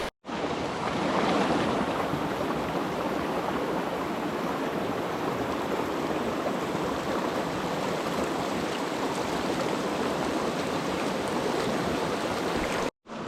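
Steady rushing and babbling of creek water flowing over rocks and sand in the Smoky Mountains, continuous and close for the whole stretch with no talking over it.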